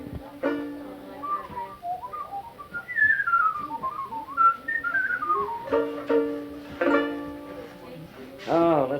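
A man whistles a melodic tune with wavering, gliding notes, recorded in 1976, with some talk and background sounds mixed in.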